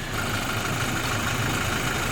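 A Toyota Innova 2.8G with a 2,800 cc diesel engine idles with the hood open, a steady, even rumble throughout with no voices over it.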